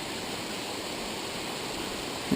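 Water spilling from a pond overflow in a small outdoor waterfall, a steady broadband rush that holds even and continuous throughout, fairly close, with no voices.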